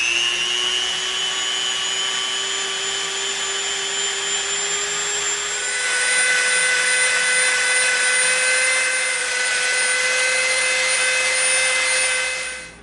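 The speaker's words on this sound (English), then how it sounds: "Now we're going to get our Dremel out and we're going to Dremel all 20." A Dremel rotary tool bevels the top edges of EVA foam pieces, making a steady high-pitched motor whine that runs continuously at close range and shifts slightly in pitch partway through.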